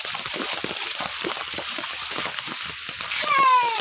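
Rainwater rushes and patters across an overflowing village pond in steady rain. The dense, close hiss carries light splashes and gurgles, with a brief high chirp near the end.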